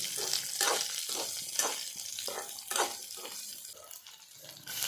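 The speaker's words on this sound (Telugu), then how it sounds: "ఇప్పుడు అదే నేతిలో 1 కప్పు ఆనియన్స్, 4 కట్ చేసి పెట్టుకున్న పచ్చిమిర్చి వేసి లైట్గా ఫ్రై చేసుకోండి" A cup of onions and four chopped green chillies lightly frying in ghee for paneer butter masala, with a close, steady hiss punctuated by rhythmic stirring bursts and no voices.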